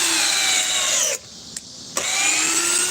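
A DeWalt drill runs into wood with a rising whine, cuts out for a near-silent pause broken by two short clicks, then spins up again, close and steady.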